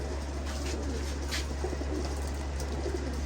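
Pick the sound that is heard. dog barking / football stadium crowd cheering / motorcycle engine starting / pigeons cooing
pigeons cooing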